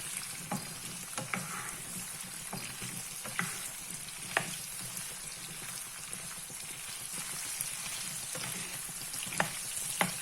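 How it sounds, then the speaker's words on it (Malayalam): Raw mango pieces fry in oil in a pan for a Kerala-style pickle, a steady soft sizzle with scattered crackles and pops and occasional stirring clicks, moderately quiet and continuous with no voices. "എണ്ണ കിടന്ന് മാങ്ങ ഒന്ന് വേവണം"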